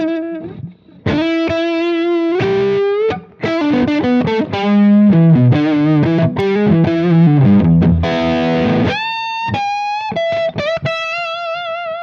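An electric guitar on its neck pickup plays a run of warm, rounded notes and chords with light overdrive and chorus, ringing out clearly with short gaps between phrases.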